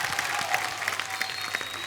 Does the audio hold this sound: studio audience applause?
yes